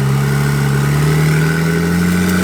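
A loud Porsche 911 Turbo S with big turbos and a custom pump-gas tune holds a sustained, droning engine note that climbs slowly in pitch, heard alone without talk.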